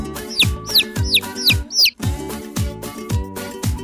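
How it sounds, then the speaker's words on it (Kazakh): A domestic chick gives a quick run of high, thin peeps, then falls quiet while a rhythmic backing track with a steady beat carries on throughout. "балапан"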